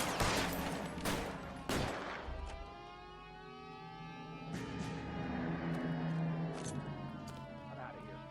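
Rifle gunfire in L.A. Noire comes as a rapid volley of sharp cracks at the start, followed by scattered single shots over a tonal musical bed, with talk underneath.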